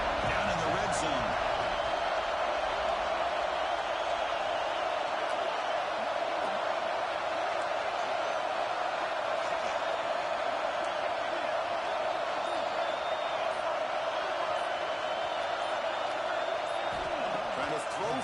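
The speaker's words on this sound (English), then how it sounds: "the crowd coming to life here, trying to help this defense down in the red zone" A football stadium crowd keeps up a steady, loud roar of cheering and noise throughout, with faint thumps and claps mixed in and a commentator talking over it.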